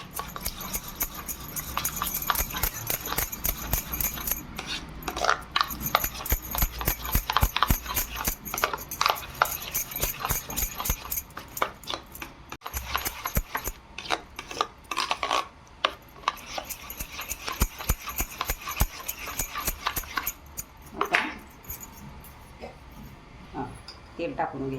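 Egg omelette mixture with chopped tomato and onion whisked by hand in a bowl, giving a fast, steady run of rhythmic clicking and scraping strokes close up for the whole stretch.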